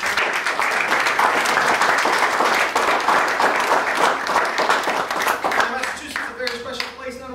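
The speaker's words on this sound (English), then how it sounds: "I want to give you all a great round of applause and thank you for the show" Enthusiastic audience applause at a D-Day 75th anniversary event honoring veterans and their families, dense, rhythmic clapping throughout that thins near the end as a voice begins speaking.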